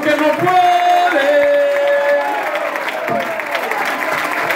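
Congregation clapping during a live church sermon, a loud dense burst of hands with sustained sung or shouted tones over it in the first half, thinning slightly toward the end.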